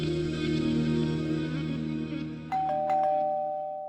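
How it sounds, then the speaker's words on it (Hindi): Two bright doorbell chimes ring out in a ding-dong pattern partway through, cutting over a steady backdrop of dramatic music in a Hindi television drama home. "डोरबेल।"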